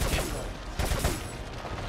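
Rapid gunfire from a full magazine being emptied in the video game Resident Evil 4, a dense run of shots for about two seconds with a stronger burst near the middle, loud and close.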